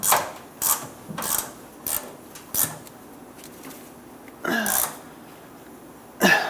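Wrench snugging up the locking nut on a Ford E-350 Super Duty fuel tank filler neck, heard as a series of short, close ratcheting clicks and scrapes in uneven bursts with quiet gaps between.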